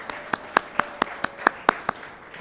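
A small dinner audience gives scattered, light applause of about ten distinct claps, thin and moderately close, lasting a couple of seconds.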